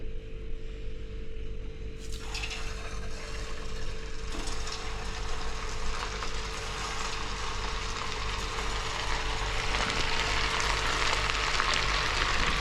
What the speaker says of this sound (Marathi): तेल गरम झालं, सोडते आहे.